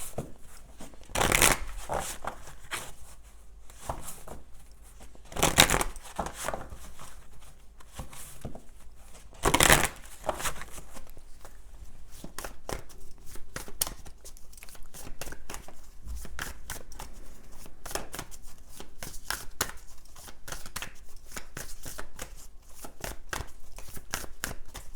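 A deck of animal oracle cards is shuffled in several quick riffling bursts, close and crisp, separated by quieter handling rustles.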